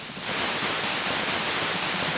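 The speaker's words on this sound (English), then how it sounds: "We've got white noise." Steady white noise from the noise generator of a JEN SX1000 synthesizer: a loud, even broadband hiss that fills the whole clip with no breaks, with a faint high whine fading out at the very start.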